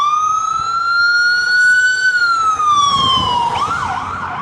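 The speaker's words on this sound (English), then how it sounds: "I hear a siren. I think that's all I needed to hear." A loud ambulance siren wails steadily nearby with a long rising and falling tone, then shifts into a faster warble as it passes.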